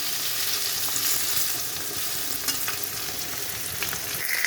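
Boiled potatoes fry in hot oil for a home-style Bengali shukto, giving a steady close sizzle with occasional stirring clicks and scrapes and no voices.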